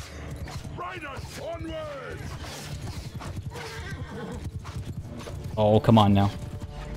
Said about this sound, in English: Horse archers are coming.